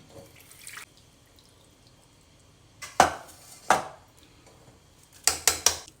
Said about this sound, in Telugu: వీటిని ఒకసారి వాటర్ పోసి నీట్గా వాష్ చేసుకోవాలి